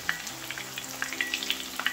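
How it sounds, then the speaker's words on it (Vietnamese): Tofu frying in hot oil in a home kitchen while it is cooked until crispy, giving a steady sizzle with scattered sharp crackles and pops, close and moderately loud with no talking. "chiên tàu hũ cho nó giòn lên"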